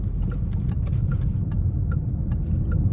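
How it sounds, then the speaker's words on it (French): Turn signal indicator of a Peugeot 2008 PureTech ticking inside the cabin, a steady run of light, evenly spaced clicks over a low engine hum. "Dans cette voiture, tu aimes mettre le clignotant parce que le bruit est agréable."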